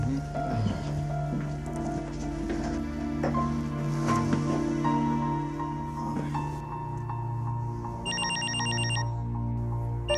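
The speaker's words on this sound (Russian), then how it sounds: "Это же ее телефон." A mobile phone rings indoors with a bright, repeating electronic ringtone that comes in toward the end, over a bed of dramatic background music with no clear talk.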